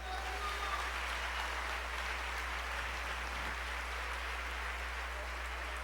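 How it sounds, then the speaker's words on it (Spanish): In a Spanish-language church service, the congregation claps for the Lord, producing a continuous, moderately faint hiss of many hands, heard over a steady low electrical hum. "Dale un aplauso al Señor."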